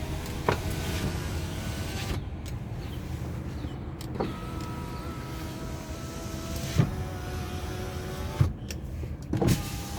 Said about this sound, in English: Let's do our windows.